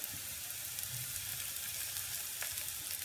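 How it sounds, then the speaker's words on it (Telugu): Ginger and garlic frying in a pan of hot oil, a steady continuous sizzle heard close up with no talking. "ఇప్పుడు దీన్ని బాగా ఫ్రై అవుతాము."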